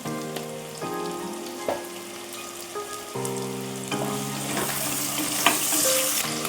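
Sliced onions with salt fry in a pressure cooker for ghee biryani: a continuous crackling sizzle with stirring scrapes and clinks, and faint sustained tones in the background.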